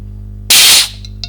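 Gas purges from a Well G55 (MP5K) airsoft gas magazine in a single loud, close hiss lasting about a third of a second, followed by two faint short puffs.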